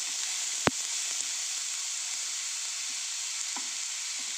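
Grated papaya thoran frying in a pan for a Kerala-style stir-fry, a steady close sizzle running throughout, broken by a sharp clink just before the one-second mark and a few faint stirring taps.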